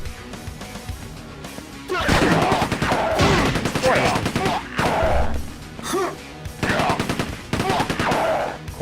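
Rapid bursts of enemy gunfire in Quake 2 on PlayStation, with repeated rattling volleys and crashing impacts, starting after a quieter opening and pausing briefly between bursts, with a voice talking faintly underneath.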